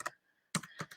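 Keys clack on a computer keyboard in a quick burst: one tap, a short pause, then three or four rapid close strokes, alone without talk.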